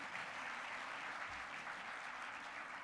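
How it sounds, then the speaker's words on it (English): Applause from the audience at an awards gala, a dense, steady clapping that fills the whole stretch at an even level with no voices over it. "Now that deserves a round of applause"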